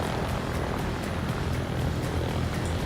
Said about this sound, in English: You might miss the takeoff, Charlie.